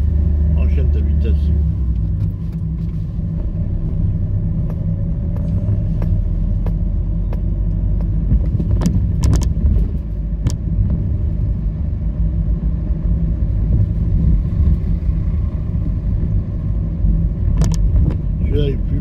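A car on a driving-lesson route at an Argenteuil driving test centre, its steady engine rumble and road noise continuous and loud throughout, with people talking over it.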